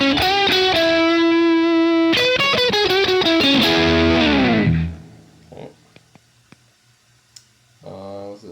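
Electric guitar through the Early Eddie preset on a Fender Mustang Micro Plus headphone amp, a brown-sound style distortion: loud, crunchy chord stabs and a sliding riff for about five seconds, then quiet clicks before a short chord returns.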